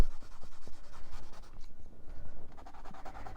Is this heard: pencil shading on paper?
yes